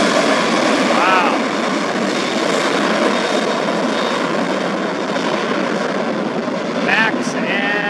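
An Alaska Airlines Airbus airliner at San Diego airport roars loudly and steadily as it passes near, with a rising engine whine and brief chirps near the end.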